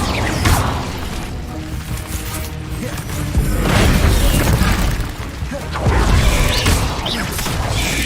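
Incendio fire spells cast during a Hogwarts Legacy battle burst out as loud whooshing blasts and crackling booms, several close surges over a dense, noisy fight with no talk over them.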